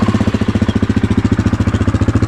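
Engine running steadily through a new quiet core exhaust insert with spark arrestor, a loud, close, even chugging pulse that holds at a constant idle-like rhythm with no voices.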